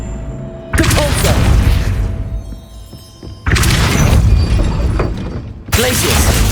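Three sharp Depulso spell impacts from Hogwarts Legacy land in a row. Each is a forceful burst of thudding, shattering noise that decays over a second or two, loud and close.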